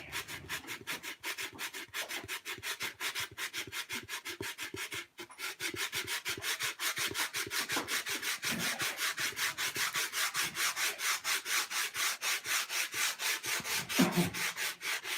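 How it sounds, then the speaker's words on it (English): Steady, rhythmic rasping of sandpaper rubbed back and forth on wood, fast repeated strokes continuing throughout, close by with no talking. "I'm done sanding."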